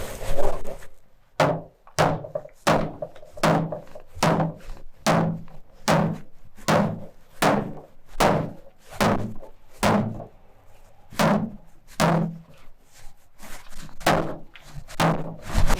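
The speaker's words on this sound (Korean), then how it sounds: "두들겼어요, 막. 두들겼는데 엄청 세게 두들겼죠." A hammer pounds hard on a waterproofing-compound patch over an unfixed, wobbly floor surface, about twenty heavy thuds in a steady, fairly fast rhythm, close and loud, with no talk.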